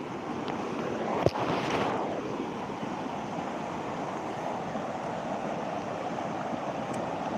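Continuous broad rush of a fast-flowing flooded river after cloudburst-like rain, steady and moderately loud, with a brief knock and some wind buffeting early on.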